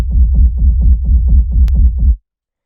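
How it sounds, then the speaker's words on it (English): A ghost kick bass layer for an electronic track runs as a steady, fast 16th-note pulse of deep kick thumps with alternating accents, loud and dry, stopping abruptly after about two seconds into silence. "And the last layer to the kick here is this ghost kick bass,"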